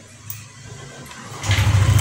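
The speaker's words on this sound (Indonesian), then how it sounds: "Coba double starter." A Yamaha Aerox scooter's electric starter whirs briefly, then the engine catches into a low, close, throbbing idle rumble.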